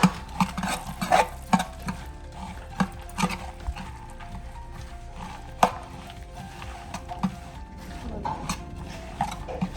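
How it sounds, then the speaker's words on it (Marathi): A spoon stirs sheer khurma with dry fruits and charoli in a metal pot, giving repeated scraping and clinking strokes close up, with a soft sizzle underneath and no talking. "आता सगळे असं एकजीव करून घ्यायला लागले सगळे"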